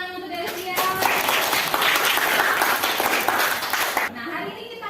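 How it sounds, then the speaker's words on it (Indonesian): Students in a classroom give a classmate a round of applause, a dense burst of many hands clapping that lasts about three seconds, with a teacher's voice and children's voices before and after. "terima kasih tepuk tangan untuk Delsia."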